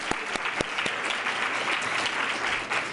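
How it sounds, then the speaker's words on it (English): A round of applause from an afternoon audience at a launch event fills the room, steady dense clapping from many hands with a few sharper nearby claps standing out. "I think I hear a round of applause"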